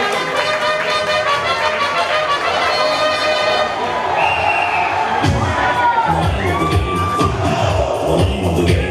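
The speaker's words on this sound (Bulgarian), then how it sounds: "вашите аплодисменти за Стела Стоилова и Кристиан!" Crowd at a Miss and Mister Toplitsa pageant in Ruse cheers and shouts for the regional winners. The noise stays loud and steady throughout, with high voices and whoops rising over it and some talk mixed in.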